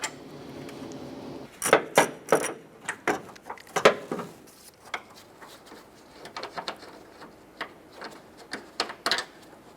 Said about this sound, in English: Go ahead and spin that bolt out the rest of the way.